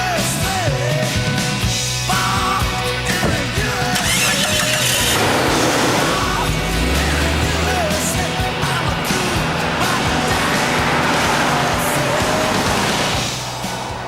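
A 1997-era Jeep Cherokee 4x4 starts up and drives off, its mid-pitched engine turning over, then revving and accelerating steadily, loud and close for most of the stretch before cutting out near the end.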